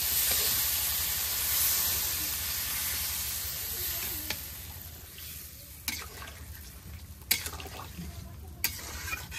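Chicken meat frying in a pan for kosha, a steady hissing sizzle with occasional scraping stirs, fairly close and moderately loud.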